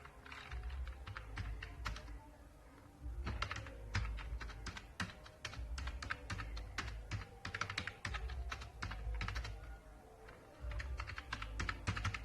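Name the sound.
typing on a computer keyboard in Microsoft Word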